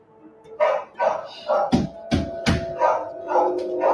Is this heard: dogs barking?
yes